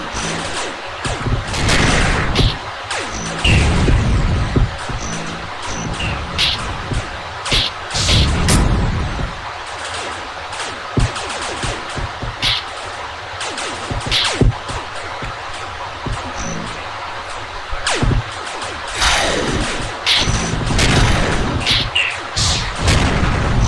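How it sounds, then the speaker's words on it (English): Missile hits and explosions in a StarCraft-style real-time strategy match, a loud, busy run of booms, bursts and rapid gunfire-like impacts that continues throughout the clip, with commentators talking over it. "did you see that missile that Meat just took?"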